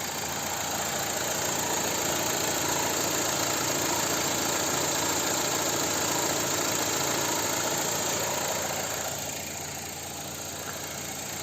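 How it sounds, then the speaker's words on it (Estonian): A BMW 318 with 167,000 km idles with the hood open, heard up close as a steady, even engine hum with a light mechanical ticking that drops slightly in level near the end. "Ja ma panen lähemale, siis saab kuulata mootori häält."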